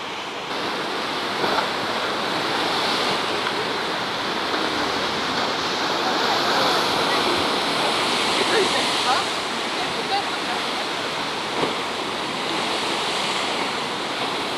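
Sea waves off the coast at Biarritz in September, a steady broad wash of surf rolling continuously at moderate distance, with faint wind and people's voices mixed in.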